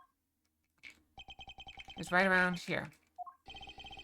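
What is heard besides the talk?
cell phone ringing in Ace Attorney video game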